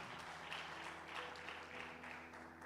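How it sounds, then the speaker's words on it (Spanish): Applause for the Lord rises from a congregation during a Saturday church service, a soft, steady wash of clapping that holds throughout at low volume over a faint sustained hum. "Dale un aplauso al Señor"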